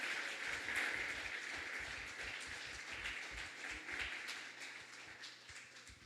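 A church congregation applauds during a worship service, a continuous wash of clapping at moderate distance that holds steady across the whole stretch, with scattered low thumps and no clear speech on top.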